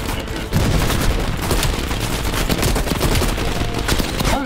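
Dense, loud gunfire from Call of Duty: Black Ops Cold War, rapid automatic bursts stacked over each other in a nearly continuous barrage that kicks in after a brief quieter start and carries on to the end.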